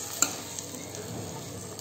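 Chickpeas frying hard in spices for chana chaat, giving a faint, steady sizzle with a brief clink near the start. It is quiet and continuous, with no voices.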